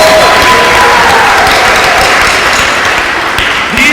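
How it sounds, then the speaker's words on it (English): An audience claps and cheers for a school stage band at an elementary band event, a dense, loud wash of applause that holds steady throughout with crowd noise mixed in. "How about a round of applause for our stage band?"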